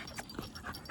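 A dog pants in short, quick, faint breaths over about a second, with a possible slight whimper and no voices.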